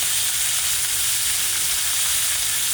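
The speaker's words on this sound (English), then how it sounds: "We're gonna let our steak sear for about 30 seconds on each side." Steak sears in a hot cast iron skillet with olive oil and rosemary, giving a loud, dense, continuous sizzle and crackle with no pauses and no voices.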